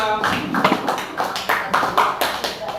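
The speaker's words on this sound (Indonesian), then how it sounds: "Oke, tepuk tangan untuk kelompok 2." Applause from a classroom of students for a student group presenting, a sustained patter of many hands clapping with rhythmic swells, fairly close and steady throughout.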